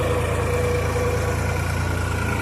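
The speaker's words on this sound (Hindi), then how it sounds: "देखिए इधर ट्रैक्टर चल रहा है, ये दिख रहा होगा आपको।" New Holland 3600 tractor engine running in a field during ploughing, a loud, steady low diesel rumble with constant vibration, close by and alone.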